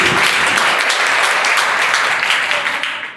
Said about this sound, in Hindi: एक बार जोरदार तालियां साध्वी जी के लिए।